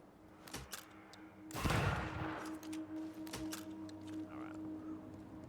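A burst of video game gunfire, a loud blast followed by scattered sharp shots and thumps over a low steady hum, with no talking.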